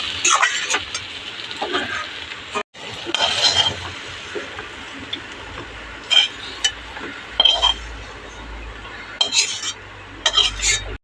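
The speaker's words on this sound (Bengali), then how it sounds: "ভালো করে ঘি, গরম মশলা, চিনি দিয়ে ভালো করে 5 মিনিট নেড়ে চেড়ে এবার নামিয়ে নেব" Ghee, garam masala and sugar being stirred through a vegetarian cabbage and soybean curry in a pan, with scraping clinks of a spoon against metal in bursts, close and moderately loud, over a faint background hum.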